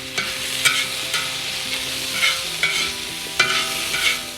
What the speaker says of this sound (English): So we're gonna mix that green chili in there